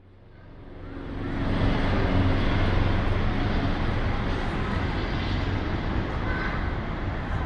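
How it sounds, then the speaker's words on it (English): A New Jersey State Police helicopter flies overhead, just after lifting off from a casino rooftop in Atlantic City. Its steady, loud broadband rotor and engine roar swells over the first couple of seconds, then holds at a constant level with no talking. "That's a New Jersey State Police helicopter."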